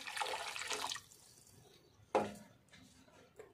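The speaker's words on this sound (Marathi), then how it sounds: "आपल्याला जेवढं वरण पाहिजे तेवढं त्याप्रमाणे आपण त्यात थोडं पाणी ॲड करू" Water is poured into thick Nanded-style tamarind dal (tempered sour varan): a short, faint splashing pour, then a brief quiet liquid knock.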